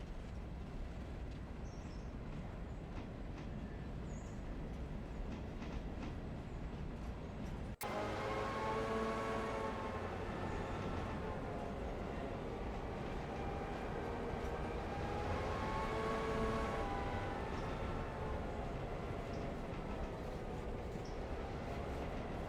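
Passenger train in the Railroader video game standing at a depot, a steady low rumble and hiss that swells sharply around midway with a loud clattering, grinding rise, continuing as a dense, near, unbroken mechanical roar.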